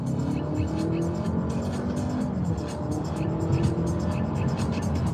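Artificial automatic-transmission shift sounds piped into the cabin of a Honda Accord hybrid while accelerating, a steady engine-like drone with rising tones heard from inside the car, with people talking over it.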